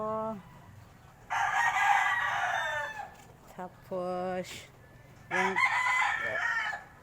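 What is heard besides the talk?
rooster crowing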